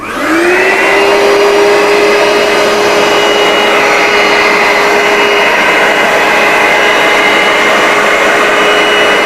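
Loud, steady motorized suction whine that spins up at the start and holds continuously, a carpet cleaner drawing up liquid with no talking.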